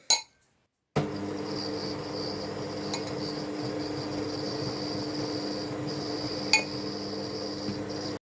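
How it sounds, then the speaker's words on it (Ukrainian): An electric mixer whirs at low speed through sugar-free cake batter with flour mixture added, a steady buzzing drone after a short click and pause, with a faint clink partway through. "включу міксер, просто перемішаю і на маленькій швидкості додам оцю суміш, яку я зробила борошном"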